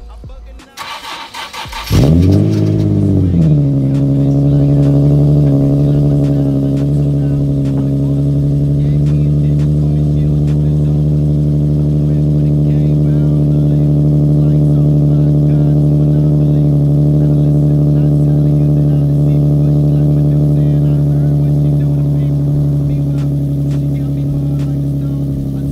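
Nissan 370Z cold start: the starter cranks briefly, the engine catches with a loud flare of revs, then settles into a high, steady, droning fast idle close by for the rest of the time.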